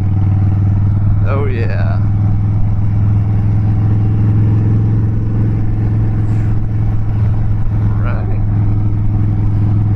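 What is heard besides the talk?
Harley-Davidson Dyna Wide Glide motorcycle riding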